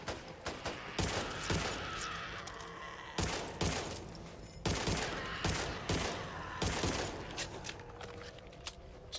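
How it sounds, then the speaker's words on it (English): Repeated loud gunshots from a gun in the video game Back 4 Blood, heavy blasts every second or so with mechanical clatter and reload noises between them. "It's two shots with this gun."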